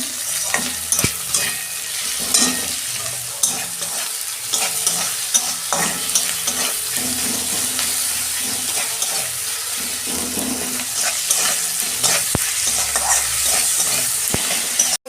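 Onions frying in a pan for a fish-head mung dal, a constant crackling sizzle broken by scraping strokes of a spoon stirring, with occasional sharper clinks and brief running water from a tap nearby.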